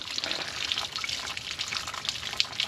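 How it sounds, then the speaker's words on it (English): Steady water trickling and draining out of a Grand Design Momentum 25G camper tank, a continuous close splashing flow with small drips, with no voices. "then I turn that off and let the rest of the water drain out"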